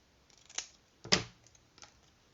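Scissors snipping ribbon for a craft project, two or three quick close metallic snips with short pauses in a quiet room.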